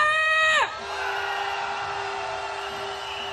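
Crowd at a candlelight rally march shouting a loud, sustained victory cheer, following a brief high wailing tone that slides downward at the start; massed voices roar continuously and fairly close.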